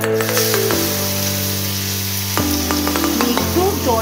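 Cashews and raisins frying in a pan for a home-style carrot halwa, a continuous close sizzle with a few sharp clicks and spoon scrapes against a steady low hum.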